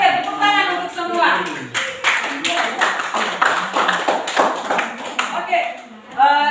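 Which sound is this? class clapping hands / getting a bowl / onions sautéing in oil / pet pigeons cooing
class clapping hands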